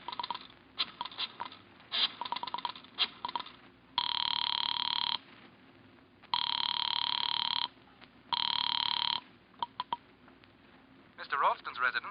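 A telephone rings over the line while a caller waits in a corner drugstore phone booth: three long, steady electronic ring bursts separated by pauses, with faint clicks and handling noise before and after.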